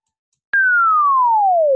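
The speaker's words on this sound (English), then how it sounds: "So you feed that theta angle into sine wave, you generate a chirp signal." A synthesized sine-wave chirp starts abruptly and glides smoothly downward in pitch for just over a second, loud, clean and alone.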